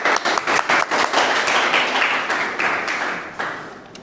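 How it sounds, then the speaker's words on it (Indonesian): A group audience claps loudly and close by after a presentation, the applause starting with a few sharp claps, swelling into a dense burst, then gradually thinning and fading. "beri apresiasi dalam tepuk tangan."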